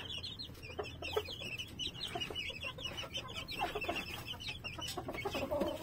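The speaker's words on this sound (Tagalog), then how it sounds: "nilipat na natin dito yung ating mga sisiw" Young chicks peeping busily in a new enclosure, dense overlapping high chirps continuing throughout at moderate distance, with no talk.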